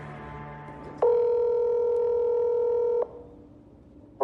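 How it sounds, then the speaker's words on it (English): A two-second telephone dialing tone at the start of a recorded phone call, loud and steady, then a quieter line and the start of another tone at the end. "The audio from that phone call is later released by authorities."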